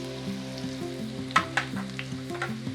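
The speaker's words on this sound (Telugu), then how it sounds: "సో ఆయిల్ కొంచెం హీట్ ఎక్కిన తర్వాత సన్నగా తరిగిన కొంచెం ఉల్లిపాయలు వేసుకోవాలి" Finely chopped onions frying in hot oil for chicken keema, a soft steady sizzle with occasional stirring clinks, under a tonal melodic background.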